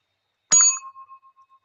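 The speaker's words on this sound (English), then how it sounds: "I have a old-timey hotelier's bell" An old-fashioned hotel front desk bell is struck once, giving a bright metallic ding that rings out clearly and decays slowly with a gentle wavering shimmer, heard alone against silence.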